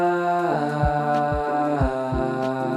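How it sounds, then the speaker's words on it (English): Auto-tuned singing with a smooth, pitch-corrected glide, steady layered tones over a low thumping beat, close and full. "Now, some effects and auto-tune."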